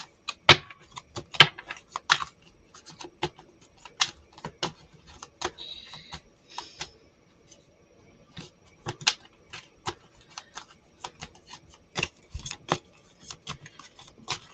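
Quick papery slaps and riffles of tarot cards being shuffled, irregular bursts with short pauses, close and fairly quiet.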